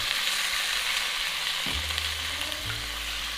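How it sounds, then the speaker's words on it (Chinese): Beef brisket sizzles loudly and steadily in a pan after cooking wine is added, a dense constant hiss with a low hum underneath, with no talking. "然后加入料酒"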